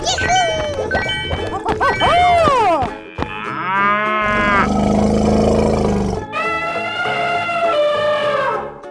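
A cow in a 3D animal sliding video game lets out a long, loud, synthetic moo among other roaring game animal calls, which follow one after another in a continuous layered stream.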